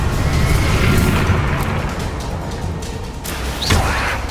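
Confringo fire-blast spell explosions in a Hogwarts Legacy combat scene, heavy low booms rolling continuously with a sharper whooshing burst near the end, loud and close over game music and ambience.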